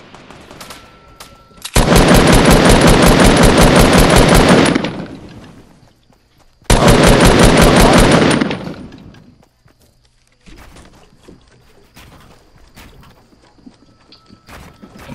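Long sustained bursts of rapid automatic gunfire in the battle royale game Fortnite, two loud, dense volleys of several seconds each, followed by quieter scattered in-game sounds.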